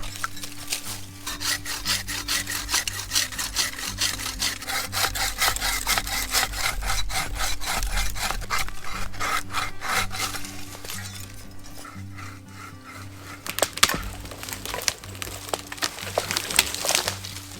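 Hand saw cutting through logs for a winter bushcraft A-frame shelter, with steady back-and-forth rasping strokes that are close and loud throughout, a brief pause, then a few sharp knocks and clinks near the end.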